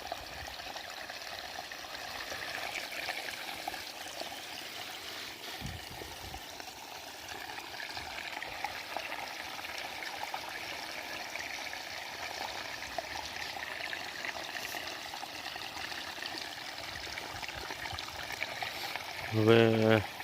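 Irrigation water flows steadily across a chickpea field at night, a continuous soft rushing and trickling held at an even level throughout, with a brief louder burst near the end.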